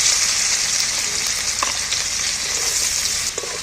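Chopped onions sizzle steadily in hot oil, a loud continuous crackling hiss with occasional light stirring clinks.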